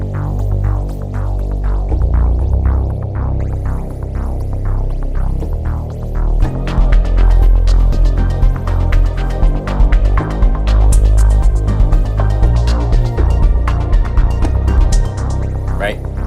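Deep synthesizer bass notes throb in a pulsing, repeating pattern, loud and close, with soft clicky accents above.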